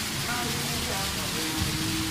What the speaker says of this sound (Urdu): اس مرتبہ جو ہے وہ بہت سخت بارش ہو رہی ہے۔